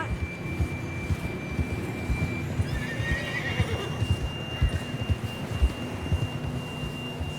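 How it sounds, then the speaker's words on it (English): A horse in the Red Dead Redemption 2 video game whinnies and snorts amid steady clip-clop hoofbeats from a ride, with a faint tonal hum from the game's ambience underneath. "John was riding that horse when we left Blackwater"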